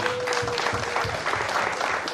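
Loud, dense applause fills a village gathering in Gouma during a chief's visit, many hands clapping steadily throughout with a few voices faintly mixed in.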